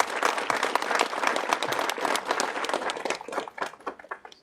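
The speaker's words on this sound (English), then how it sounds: "if that is not worthy of a round of applause" Loud, dense clapping from a book launch audience fills the room at close range, a sustained burst that thins into scattered claps near the end.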